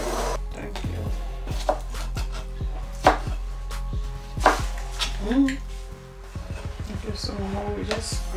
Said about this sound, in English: I'm going to chop some tomatoes and onions, which we're going to add later